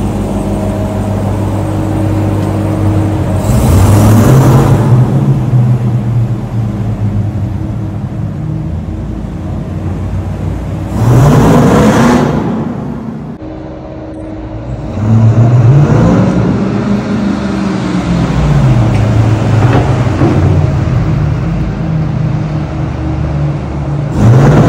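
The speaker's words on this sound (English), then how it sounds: "we're gonna go for a drive right now." A 2023 Ram TRX truck driving, its engine droning steadily with several swelling revs and accelerations rising and falling, heard close and loud with no talking.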